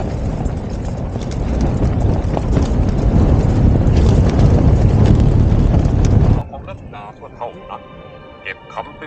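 Strong wind buffets a tent at the Suan Sawan campsite on Phu Thap Boek mountain, a loud continuous roar of gusts against the microphone for most of the stretch before it suddenly drops to a quieter hiss.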